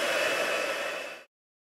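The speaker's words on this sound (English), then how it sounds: "Sprinkle embossing powder over it and tap the excess off and heat set it" Heat gun blowing to heat-set embossing powder on a stamped card, a steady close airy whoosh lasting about a second before cutting off abruptly into silence.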